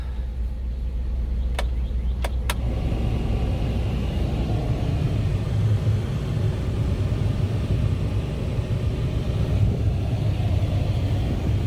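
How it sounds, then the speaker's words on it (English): The blower motor of a 1999 Dodge Ram truck runs with a steady low whirring rumble after a couple of brief clicks at the start, holding a constant drone close by, with no talking. "Blower motor is working."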